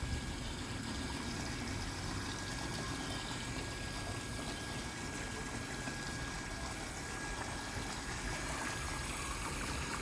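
Water runs steadily onto a garden, a constant low rushing and trickling flow that stays even and close throughout with no voices.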